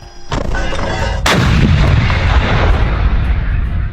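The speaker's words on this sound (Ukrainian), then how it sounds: "Ми стріляли на тисячу метрів. Це робиться для перевірки гармати." A loud Leopard 1 tank cannon shot, fired at 1,000 meters to test the gun, booms out, its blast rolling into a long, heavy rumble that lingers; a sharper crack comes just before it.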